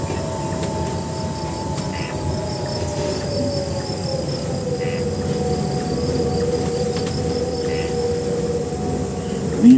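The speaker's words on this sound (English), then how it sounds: "All set against a chorus of crickets." A steady night chorus of crickets chirps continuously close by, a dense insect drone with a low background hum beneath and no talking.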